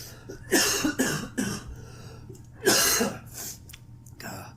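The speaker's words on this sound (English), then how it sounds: "Got a smoker's cough" A smoker's rough, wet cough sounds close to the microphone in repeated bursts: a cluster of three hacks, a pause, then another heavy cough and a fainter one.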